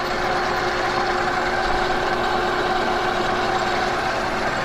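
A metal lathe runs steadily while facing off a workpiece, giving a continuous even motor hum with a broad whirring hiss, close by and unbroken, with no talk.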